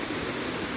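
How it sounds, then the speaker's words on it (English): A thundering waterfall roars as a steady, dense wash of broadband noise, continuous and loud with no breaks. "I'm going to use the thundering sound of this waterfall"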